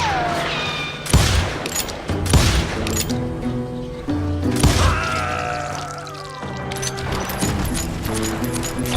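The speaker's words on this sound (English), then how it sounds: "I heard the shots and I knew I had to move fast" Gunshots from the Wild West video game Call of Juarez Gunslinger, several sharp loud cracks spaced through a dense layer of game music and ambience, with one strong burst near the middle.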